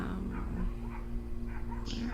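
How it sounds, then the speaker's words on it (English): Dogs fighting outside, heard faintly in the distance as scattered yips and whimpering barks beneath steady low background hum and quiet talking. "It's like dogs killing each other out there."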